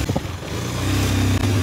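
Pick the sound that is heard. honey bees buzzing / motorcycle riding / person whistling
motorcycle riding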